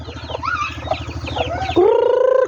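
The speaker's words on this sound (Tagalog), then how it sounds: "Ito manok." A farm chicken clucks and squawks in a string of short calls, ending in a longer drawn-out cry, close and fairly loud against a steady low mechanical hum.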